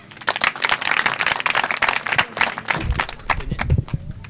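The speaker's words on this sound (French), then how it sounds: "Qu'on applaudit s'il vous plaît" Applause at a public school event in Dougoï, Maroua, a dense burst of close, rapid handclaps from a group of children and adults, sustained and fairly loud throughout.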